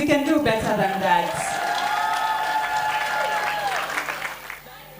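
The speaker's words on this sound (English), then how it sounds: "Another round of applause, parents." Parents at a Grade 7 school farewell luncheon applaud steadily, with some cheering mixed into the clapping and voices and background sound running underneath before it fades near the end.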